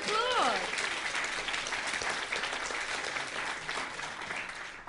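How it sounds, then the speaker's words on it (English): Audience applause after a success-story announcement, a dense wash of clapping that starts loud and tapers slightly over about five seconds, with a brief voice at the very start. "Give her a round of applause."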